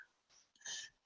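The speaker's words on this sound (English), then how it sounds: "just sneezed" One person sneezes, a short breathy intake followed by a sharp, fairly quiet burst, heard alone in an indoor room.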